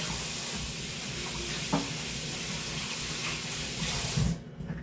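Cabbage rinsed under a running kitchen tap, a steady loud rush of water that continues for about four seconds, then cuts off abruptly near the end.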